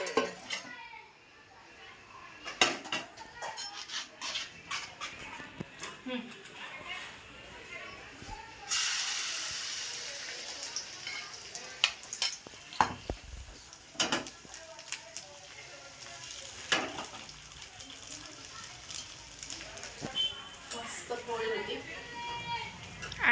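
Egg batter is whisked in a bowl for egg pancakes with repeated spoon and bowl clinks, then hits hot oil with a brief hiss and soft sizzle. Kitchen clatter continues as a person talks in the background.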